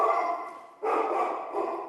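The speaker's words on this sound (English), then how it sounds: "Excuse my dogs. Excited." Several excited pet dogs bark indoors during a live sports-card unboxing stream, in continuous loud yapping that dips briefly and then surges again.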